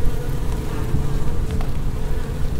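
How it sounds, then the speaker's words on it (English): Honeybees droning in a steady buzz around an open hive during an inspection near British Columbia blueberry fields, a dense continuous hum with no talk. "As a beekeeper, you inspect the bees to check on the health of the young and their overall health of the colony."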